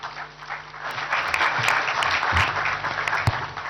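Audience applause at a ceremony at the Prime Minister's House for the Pakistan cricket team, honouring Dr. Nauman Niaz and Nusrat Haris: dense sustained clapping from a crowd, loud and steady with a few sharper claps.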